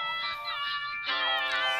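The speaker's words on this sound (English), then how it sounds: "cat." A cat meows twice in close succession, both calls drawn-out and nasal, the second louder and brighter, heard close with no talking.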